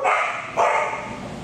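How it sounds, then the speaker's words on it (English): Several dogs of different types barking and yipping at an animal shelter, two loud close bursts with a brief break between. "As you can see, there's many different types of dogs."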